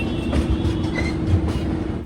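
The Vivek Express (Dibrugarh to Kanniyakumari) rolls along the rails with a steady low rumble and faint rhythmic clatter, heard from on board the moving train, continuous and fairly loud.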